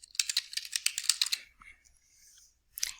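Rapid keystrokes rattle on a computer keyboard in a close burst, fall quiet briefly, then resume with a few more taps at the end.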